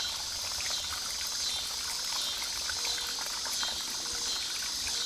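Water pours from a well pipe running down a hill into a bucket for a self-cleaning duck pond, a soft, steady trickling and splashing with bubbly texture, fairly quiet and continuous.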